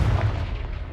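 The Confringo blasting spell in Hogwarts Legacy explodes as one heavy, low boom at close range that decays within about a second.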